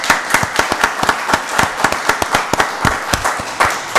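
Brisk, sharp claps from a meeting-room audience at a county board of commissioners session honoring the Parks and Recreation department, individual hand claps distinct and close, steady and fairly loud throughout.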